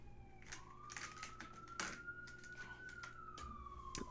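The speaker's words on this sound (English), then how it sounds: "Apologies for the sirens." A distant siren wails outside in a slow rising and falling sweep, faint and steady, while soft irregular tapping clicks sound nearby in a quiet room.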